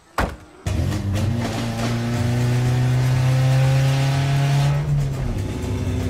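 A car with a broken exhaust roars loudly and steadily after a brief knock, its engine note droning and rising slightly while it drives over a rough, rally-like road, heard close from inside the cabin.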